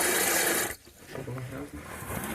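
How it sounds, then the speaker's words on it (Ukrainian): Clean water runs from a tap in a kitchen boiler-room installation once trapped air has been bled out. A loud hissing burst of spitting flow cuts off abruptly, and a softer, steadier stream with some voice follows. "Пішла чесненька вода."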